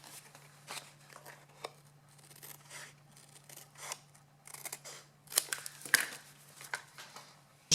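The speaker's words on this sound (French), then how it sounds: "Et je recoupe le long de mon adhésif double face" Scissors cut paper along double-sided tape in a series of close, crisp snips and rustles, irregular and quiet, with sharper cuts near the end and no talking.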